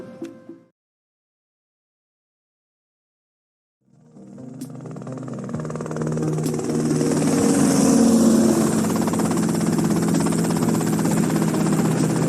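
Helicopter in GTA Vice City: after a short sound and a few seconds of silence, rotor and engine noise swells in and holds as a steady, loud, close drone.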